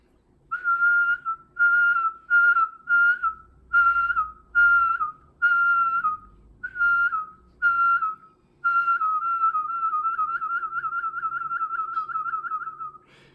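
A cheek warbling whistle, also called a recorder whistle, made by pushing one cheek with a finger. Several short clear whistled notes come first, then one long sustained tone with a fast rippling warble.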